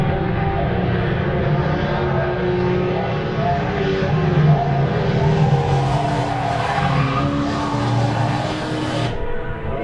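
Mustang race cars roar around a circuit at a sporting car club nationals meeting, a dense, loud, continuous engine drone with tyre noise and no clear breaks.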